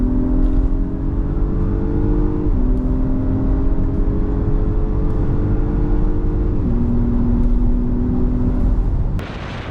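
SUVs accelerate hard in a drag race between an Audi Q7 S line and an Acura MDX Type S: a loud, steady engine roar with rising whine that drops at each gear shift, fading at the end.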